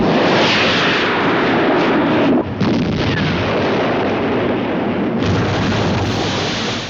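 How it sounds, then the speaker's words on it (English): An anti-submarine rocket fires in the film The Bedford Incident, a loud sustained roaring blast with a sharp break midway and a second surge, heavy broadband noise filling the whole stretch without speech. "Widmark orders an anti-submarine rocket be loaded and made ready"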